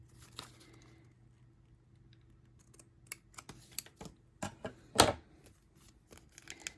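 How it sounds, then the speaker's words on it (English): Scissors snip paper for a handmade junk journal, a string of quiet, crisp cuts close by that grow busier and louder toward the end, with no talking. "So I'm just going to snip right to the edge of where it's cut."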